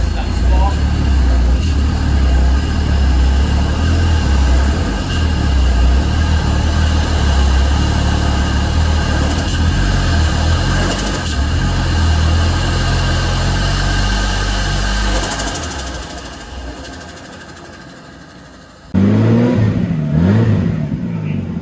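A turbocharged Holden Commodore VL engine idles steadily and then revs up, close and loud, with a brief drop before the engine noise returns.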